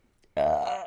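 A single loud, close burp lasting about half a second, with a sudden start and a steady voiced tone.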